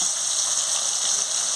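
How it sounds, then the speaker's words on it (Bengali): Broiler chicken pieces rubbed with turmeric and salt fry in hot oil, a steady bright hiss with no breaks, close and fairly loud, with no voices. "এখন মাংস তেলের ভিতর দিয়ে ভাজি করে নেব।"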